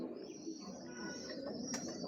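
Young pigeons in a loft give soft, low cooing and murmuring calls close by, faint and continuous, with a brief rustle near the end.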